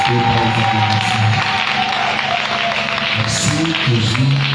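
Church congregation applauding and cheering together, a steady, dense wash of clapping and acclamations lasting throughout, with a sustained musical tone underneath and voices mixed into the crowd noise.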